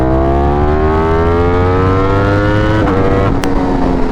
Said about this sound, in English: say you're cruising at, I don't know, 60-ish, and then you just pin it